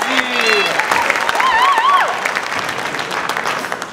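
Audience applause at a school arts gala concert, steady and fairly loud, with cheering and whooping voices rising over the clapping.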